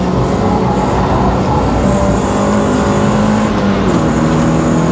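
Mazda MX5 engine held at full throttle in third gear on the Llandow race track, a loud, steady drone running continuously with no speech over it.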